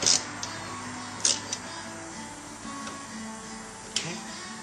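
A torque wrench tightens Hurst shifter bolts on a 2009 Dodge Challenger, giving a few sharp, spaced clicks over a quiet, hollow background.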